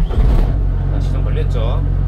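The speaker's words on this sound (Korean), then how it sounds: "자, 시동 걸면 이렇게 됩니다." A Kubota six-row combine harvester's engine starting up, a loud close low rumble with a rough initial crank that settles into a steady idle, with someone speaking over it.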